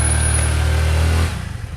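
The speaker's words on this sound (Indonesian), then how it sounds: "Nyetir motor di gas, tong di rem ya." A motorcycle engine drones loudly and steadily with a strong low hum, then abruptly cuts out and sputters to a weaker, uneven rumble, like a stalling bike.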